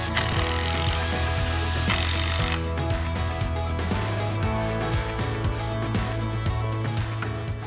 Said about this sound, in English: I'm using timber screws to hold it all together, and to stop the wood splitting, I'm pre-drilling every hole.